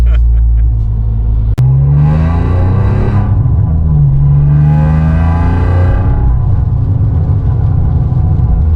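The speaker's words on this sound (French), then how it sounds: "c'est plus joli quand ça monte dans les tours le bruit." An Alfa Romeo 147 GTA's V6 engine with stainless exhaust roars loudly from inside the cabin, rising in pitch through two strong accelerations with deep booming resonance underneath.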